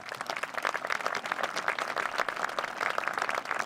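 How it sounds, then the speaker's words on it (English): A high school graduation audience claps in steady, dense applause, many hands overlapping at an even, moderately loud level with a slightly rhythmic pulse and no talking. "Please join me in a nice warm round of applause for them."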